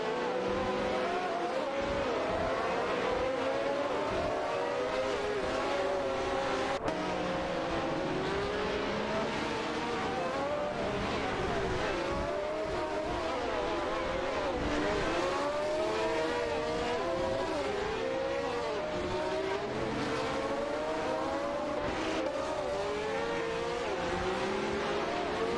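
Multiple race cars compete in a video game race, their engines screaming and overlapping as they rev and shift, with occasional tire squeal in a dense, continuous roar.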